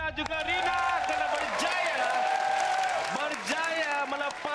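Studio audience applause on a game-show set, a broad wash of clapping running under a host's continuous speech, moderately loud throughout.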